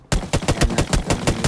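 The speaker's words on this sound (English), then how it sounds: "Klaus with the AK." Rapid automatic AK rifle fire in a competitive battle-royale style video game, about nine sharp evenly spaced shots in quick succession, loud and close, with no voices over them.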